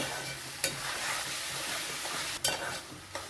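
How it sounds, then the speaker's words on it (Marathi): Mashed eggplant bharit with salt being sautéed in a pan, a steady close hiss of frying broken by a few sharp scrapes of a spatula stirring, with no voices. "मस्त ही भाजी परतून घेऊया"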